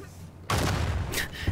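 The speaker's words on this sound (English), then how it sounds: "And this is my terrible shooting." Shots in Uncharted 4 on Crushing difficulty in Chapter 19, Avery's Descent: a quiet lead-in, then a sudden loud burst of gunfire with booming impacts and crackling hits that carries on to the end.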